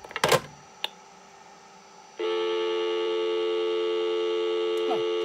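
A steady telephone dial tone from an Ameritec AM-7 Central Office Simulator, starting about two seconds in after a few clicks and holding loud and continuous to the end, with a faint chirp near the close.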